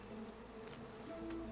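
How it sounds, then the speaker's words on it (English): Bees from Divinity: Original Sin II swarm and sting, producing a faint, brief buzzing drone with a couple of short whooshing bursts, heard alone. "Stinging pain consumes you as the bees attack you, and the honey bears too."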